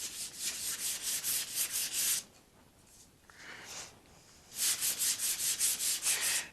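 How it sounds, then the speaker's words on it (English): Doped silk covering on an RC plane is rubbed with 320 grit sandpaper in quick, rhythmic strokes, close and soft, with a short pause of lighter scuffing in the middle before the brisk strokes resume. "if you pay attention to your sanding, you can tell when you need to stop with the 320"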